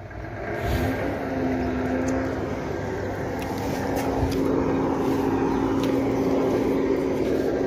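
A heavy Mercedes-Benz truck engine rumbles loudly through a large, seemingly straight-through exhaust nearby, holding a steady deep roar with slight surges and no talking.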